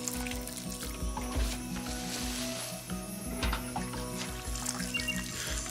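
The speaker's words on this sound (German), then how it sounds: "So, dann gieße ich einmal die Pumpkins noch." In the game Len's Island, pumpkins are watered with a gurgling pour of liquid under mechanical ratcheting and clicking game sounds, moderately loud and continuous.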